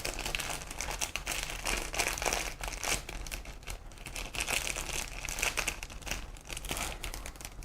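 Plastic packaging around a set of sticky pads crinkles continuously up close, dense rustling and crackling with brief louder crumples, no voices.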